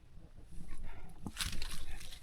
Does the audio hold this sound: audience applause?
no